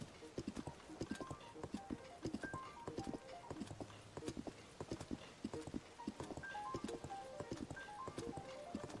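A ridden horse gallops in Zelda: Tears of the Kingdom, with rapid rhythmic hoofbeats pounding steadily and clearly throughout.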